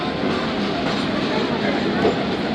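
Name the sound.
Zakariya Express train at the station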